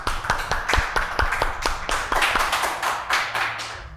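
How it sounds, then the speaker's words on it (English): Audience hands clap together for a school quiz contestant, a dense, steady round of applause with sharp individual slaps standing out, fairly close and loud throughout, with no talking. "Okay. Clap for her."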